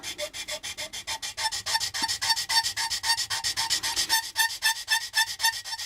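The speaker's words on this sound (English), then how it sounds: "So what I'm going to do is I'm going to check one more part of this, and that'll be the end of our stub. And just sand this down a bit." Close, steady back-and-forth sanding strokes on a plastic part of the AMT 1983 USS Enterprise model kit, a rhythmic rasping repeated about four times per second, loud and unaccompanied by talk.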